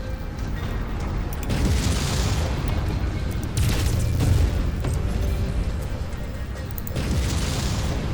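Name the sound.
base wall destroyed and collapsing in video game MechWarrior 5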